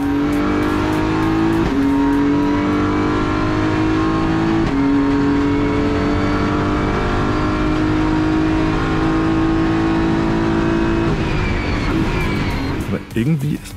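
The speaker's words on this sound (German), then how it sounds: "Das Kawum, Kawum, Kawum der sequentiellen X-Track-Box ist natürlich total episch und schlägt wirklich ordentlich rein." BMW M4 GT3 race car engine revs loud and continuous from close by, with sharp sequential gearbox upshifts punctuating the drone.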